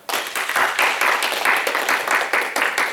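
A church congregation applauding during a sermon, dense continuous clapping from many hands that starts abruptly and holds steady and loud throughout.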